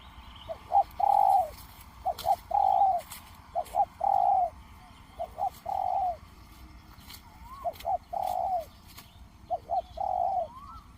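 Spotted dove coos in repeated short phrases, each a couple of quick notes and a longer rolling coo, about every one and a half seconds, clear and fairly close over a low outdoor rumble; decoy-bird hunting setting.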